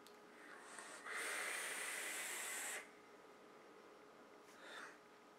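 One puff drawn on a Hugh dripper e-cigarette at 50 watts with a 0.27 ohm coil: a faint, steady airy hiss lasting under two seconds, with quiet breathy sounds after it.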